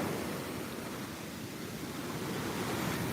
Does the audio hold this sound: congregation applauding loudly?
no